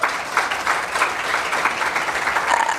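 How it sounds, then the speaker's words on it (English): An audience at the opening ceremony of an African philanthropy conference gives a round of applause, a full, even patter of many hands that holds steady throughout. "Let's give him a round of applause."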